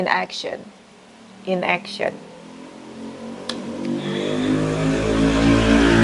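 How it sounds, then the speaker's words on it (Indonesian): Brief speech at the start, then an engine swells from a low rumble into a loud, steady roar as a motorcycle passes close by, heard through an open door. "sorry ya, berisik, itu ada motor lewat"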